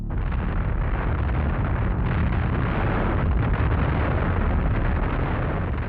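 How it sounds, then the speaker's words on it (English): A bomb detonates in a building during the July 1944 plot against Hitler, a loud sustained roar of blast and rumble filling the whole stretch without pause. "At 12:42 p.m., the bomb detonated."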